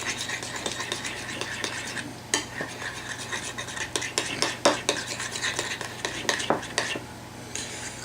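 Chipotle wing sauce being stirred into ketchup in a dish, with a spoon scraping and clinking against the sides in steady, close strokes, short sharper knocks scattered through.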